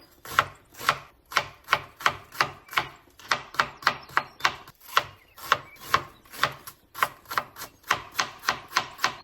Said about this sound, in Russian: Крупную луковицу я нарезаю меленько.